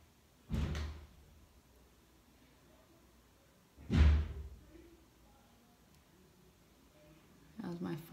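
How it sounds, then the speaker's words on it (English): A front door in a home shuts with two heavy, close thuds a few seconds apart, each followed by a brief rattle, with a quiet room in between and a faint knock near the end. "My front door closing."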